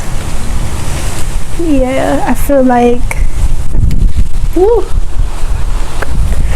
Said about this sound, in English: it's really, really windy, so I had to catch my phone